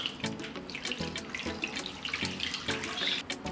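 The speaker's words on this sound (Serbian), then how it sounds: "Nalit ću sa vodom do visine poklopca." Steady gushing of water pouring into a pot holding jars, continuous and fairly close, with slight gurgling fluctuations.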